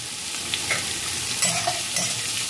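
Poha frying in a pan with a little salt, a steady soft hiss with faint scraping stirs now and then, fairly quiet and close, no talking.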